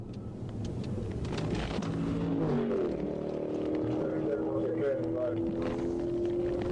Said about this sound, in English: Listen to this V8.